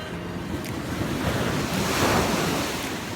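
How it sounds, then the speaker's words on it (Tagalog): Ocean surf at Baler breaks and rushes ashore in a steady, loud roar that swells near the two-second mark, with wind buffeting the microphone throughout. "Lakas ng alon dito guys sa Nueva Ecija"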